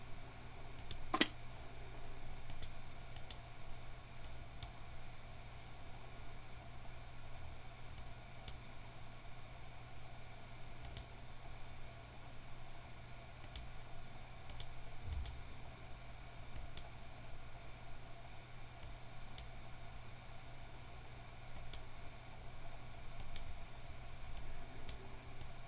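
Computer mouse clicks come as sparse, sharp single ticks at irregular intervals while someone plays the game Dead But Alive! Southern England, heard over a steady electronic hum and hiss with no talking.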